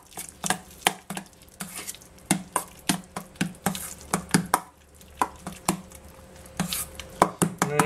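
Sun-dried tomato dip gets stirred into thick labneh, a spoon scraping and tapping against the bowl in quick irregular strokes, close and fairly loud, with a faint steady hum underneath.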